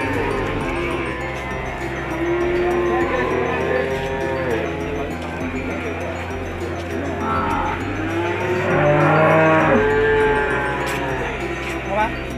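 PO Ongole crossbreed cattle about two years old moo loudly and repeatedly, several long lowing calls overlapping one another amid a noisy livestock pen with faint voices in the background.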